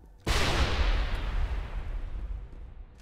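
A grenade explodes in the video game Mass Effect: one sudden loud blast with a deep boom that rumbles and slowly fades over about three seconds.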